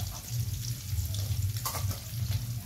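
Galunggong fish frying in a pan with a steady, close sizzle and crackle over a low hum, running continuously without pause.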